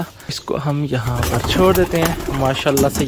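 Pigeons coo in a pigeon cage being moved to a larger new house, repeated throaty rolling calls close by, while someone speaks over them.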